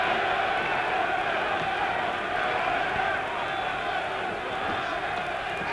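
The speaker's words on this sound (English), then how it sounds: "Tremendous German crowd here, ready to cheer this man on to victory if they can." Large German crowd at a 1966 heavyweight boxing match in Germany, a steady roar of cheering and murmuring from a packed arena, with a commentator's voice running over it.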